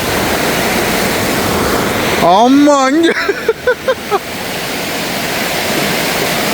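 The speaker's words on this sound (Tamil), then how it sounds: "ரோட்டுக்கு மேலால போகுது தண்ணி அந்த அளவுக்கு வந்து வெள்ளம் போய்கொண்டிருக்குது" Floodwater rushes over a road at a junction in Mullaitivu during flooding, a loud, steady broadband roar throughout, with someone briefly speaking close by over it.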